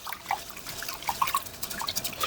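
Rinse water is tipped out of a pot of rice, a close trickling, dripping pour with scattered droplet plinks.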